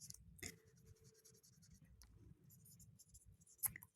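Writing on a board during a Class 10 history lesson, with soft, close scratching strokes in short bursts and faint clicks, fairly quiet with brief pauses between strokes.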